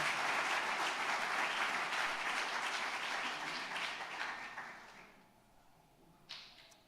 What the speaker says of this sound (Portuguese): Nós podemos aplaudir ao Senhor nessa noite